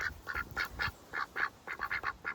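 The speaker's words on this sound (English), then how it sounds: "Here come the ducks. The world's busiest ducks." A group of ducks on a flower farm in May quacks busily at close range, a rapid string of nasal calls overlapping in quick succession with no voices over them.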